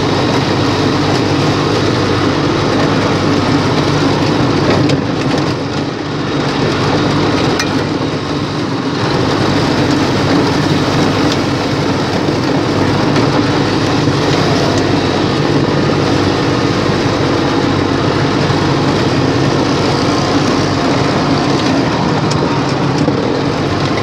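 A two-stroke engine with a Biz carburetor runs on a small homemade mini buggy, giving a steady, loud, unbroken drone that holds at a constant pitch for over twenty seconds, heard up close with no talking.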